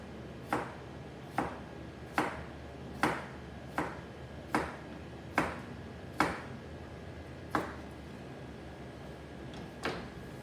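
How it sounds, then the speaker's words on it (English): A knife slices through a potato onto a cutting board. Around ten sharp, evenly spaced chops land close by at a steady rhythm, with quiet pauses between them and no talking. "that's how we cut a potato"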